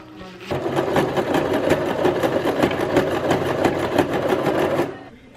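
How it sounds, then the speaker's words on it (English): A sewing machine stitches fabric for a book sleeve in one sustained run of about four seconds, its rapid mechanical chatter loud and close before it stops abruptly. "we're gonna sew it onto this and just show you all the process again"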